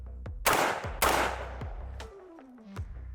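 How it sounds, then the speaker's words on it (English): Cetme L rifle with a short barrel and muzzle brake fired on a range, two sharp loud close shots about half a second apart followed by ringing decay and faint distant reports. "Hold back, rock it, and it just shoots."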